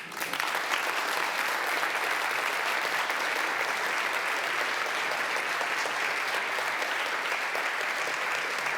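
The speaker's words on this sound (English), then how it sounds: "So big applause for them" A lecture audience applauds steadily for several seconds, a dense, even wash of clapping from a full room.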